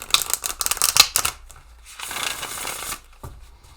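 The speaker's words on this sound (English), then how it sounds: "So, let's give it a proper shuffle and see what this is about here." A tarot card deck being shuffled, crisp riffling and flicking bursts close up in two loud rounds separated by a short pause, with no talking.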